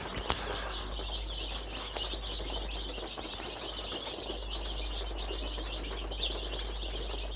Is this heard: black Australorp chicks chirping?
yes